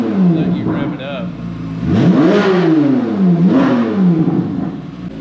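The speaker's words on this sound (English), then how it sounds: "You have to go into drive mode and then pull the passenger and let you rev it up." Revving of a 2023 Corvette Z06 engine, with two rising and falling throttle blips that swell and settle after a short lower idle tone, heard close and loud.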